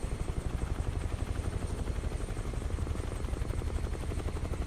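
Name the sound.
Huey helicopter flying in a flight simulator video game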